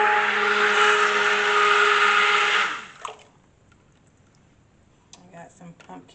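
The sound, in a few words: stick blender mixing cold process soap batter with pumpkin purée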